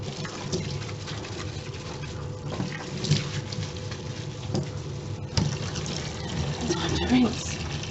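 Tap water runs steadily into a sink while dyed cotton fabric is rinsed, a continuous close splashing patter with occasional louder splashes and no talk over it.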